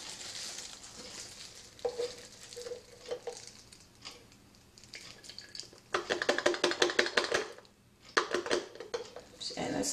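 Hair color being stirred into developer in a mixing bowl: a steady, soft scraping swirl that turns into brisk, rhythmic strokes in the second half, close and fairly loud, with a short pause near the end.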